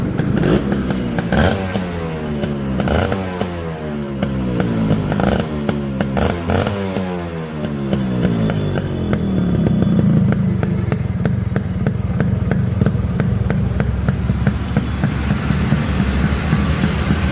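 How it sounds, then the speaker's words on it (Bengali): A Yamaha RX 100 two-stroke motorcycle starts and runs loudly up close, its engine note climbing and falling through repeated revs before settling into a steady, rattly idle, with no talk over it. "আরেকবার আপনাদের স্টার্ট করে দেখাই"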